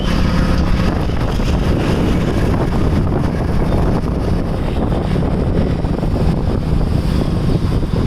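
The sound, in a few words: cold wind blowing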